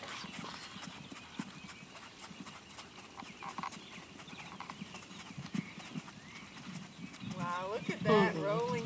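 A gaited horse canters with a soft, rolling rhythm of muffled hoofbeats. A person speaks over it, and a brief neigh or snort rises near the end.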